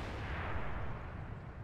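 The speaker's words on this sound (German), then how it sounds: "Der Schuss hat, glaube ich, getroffen," A tank cannon shot in a tournament video game strikes its target without penetrating, a faint, rumbling burst with a broad noisy wash and no talk over it.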